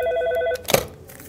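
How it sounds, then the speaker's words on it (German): A telephone rings at a helpline office, a repeating electronic ring close by that stops abruptly and gives way to a brief clatter, with no talking. "Das Telefon klingelt nonstop, ja, seit mehreren Tagen, Tag und Nacht"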